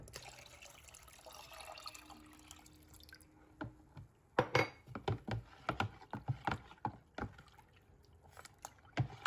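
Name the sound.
pouring 3 cups of water while making horchata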